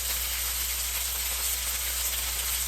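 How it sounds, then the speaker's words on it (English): Salmon fillet searing in a hot skillet, giving a steady, unbroken hiss and sizzle close by, with no talk over it. "So we're going to sear it on this side."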